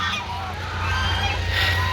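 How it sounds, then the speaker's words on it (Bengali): Geese, large domestic birds sold as breeding stock on a farm, honk and call steadily at close range with a low steady hum beneath, no talking. "এই যে হাঁসগুলা"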